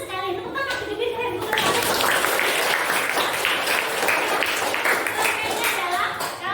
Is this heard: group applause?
yes